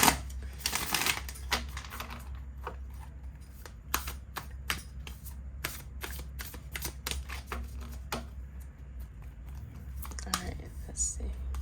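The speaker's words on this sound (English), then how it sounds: "I already have given them a pretty good shuffle" Tarot cards riffled and shuffled in a series of quick, crisp bursts, close by, with soft handling noises between them.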